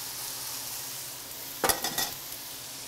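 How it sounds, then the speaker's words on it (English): Stir-fried green beans drop into a pan of cooked, crumbled pork: a quiet background sizzle, then a short burst of clattering and stirring sounds near the end. "So in go our stir-fried green beans"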